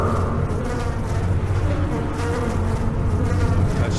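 Bees buzz in the video game Tesla Effect, a dense, continuous insect drone that stays close and loud without pause.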